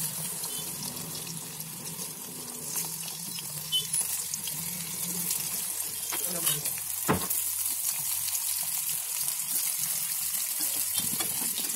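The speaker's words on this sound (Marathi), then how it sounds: "आता या तेलामध्ये आधी आपण आलू तळून घेऊ" Potatoes frying in hot oil in a home kitchen while onion pakoras are being made, a continuous soft sizzle and crackle with occasional stirring clinks, fairly quiet throughout.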